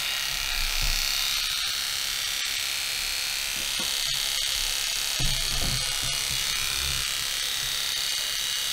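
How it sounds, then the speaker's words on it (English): Corded electric shears buzz steadily while clipping an angora rabbit, a close, continuous motorized hum with a few faint clicks and brief handling noises throughout. "Do those sound loud? She's used to quieter clippers."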